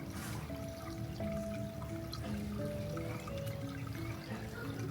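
Running water trickles and splashes steadily in a southern French village, a continuous close, soft babbling under faint background voices and distant village noise.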